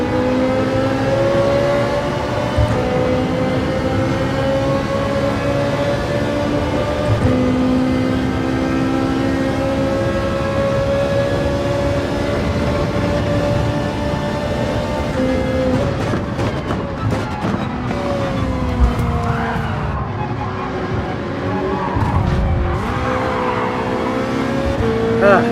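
A Porsche race car roars through a VR racing game, its engine holding a loud, sustained tone with shifting pitch, then rising and falling sharply under hard acceleration and braking near the end, with a hint of tire squeal.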